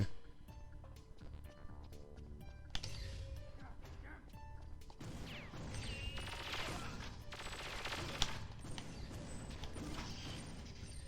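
Handgun fire in the shooter Perfect Dark, several sharp shots scattered among clanks, impacts and game effects, set against a busy mix of music and noise, fairly faint overall.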